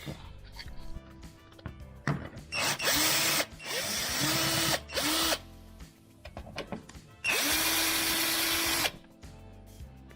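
Power drill whirring in loud bursts while screws and plastic clips are removed from a 2016–2021 Honda Civic during a grille installation, several long spins separated by short pauses and clicking handling noises.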